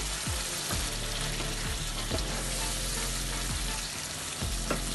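Tikka curry paste frying in a pan, a steady close sizzle throughout with occasional soft scrapes of stirring.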